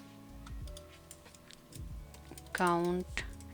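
Keystrokes of Python code being typed on a computer keyboard sound as soft, scattered clicks in short bursts, fairly quiet and close, mixed with a person talking.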